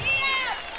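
Home crowd at a high school football game, Oologah Mustangs versus Wagoner, giving a brief loud burst of cheering and shouting with voices blended together.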